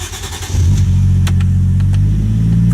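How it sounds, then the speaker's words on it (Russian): A car with a Toyota 1JZ-GTE engine, fitted with an automatic transmission simulator, starts with a short crank and catches, then settles into a loud, steady idle. "Так, ну все, наверное, завести надо машину. Заводим."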